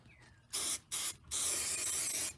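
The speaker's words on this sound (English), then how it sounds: "spray this here and up there." Three hissing bursts from a can of spray adhesive during VW Beetle headliner installation, a short one, another short one, then a longer steady spray, close up with a quiet room behind.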